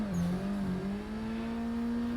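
Race car engine in Assetto Corsa on a dragway, holding a steady high rev near the limiter with a strained, sustained tone, loud and close with no talking.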